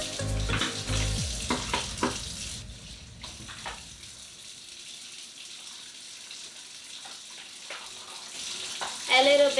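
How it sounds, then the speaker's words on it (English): Method cleaner sprayed onto a kitchen countertop with a sponge and warm water, a loud hissing spray at first, then softer scattered wiping and sloshing, with another burst near the end. "when I spray like nighttime like this, I just spray all Method on it, and I'm going to use the sponge and warm water."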